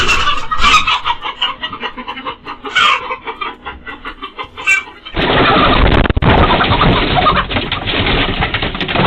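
Chickens clucking at a poultry farm, busy overlapping clucks and calls close by, with a dense, louder stretch of flock noise in the second half.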